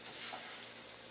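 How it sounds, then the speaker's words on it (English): Burrito frying in butter in a pan, a steady soft sizzle running throughout, fairly quiet and close, with no talk. "And then it goes into the frying pan with butter."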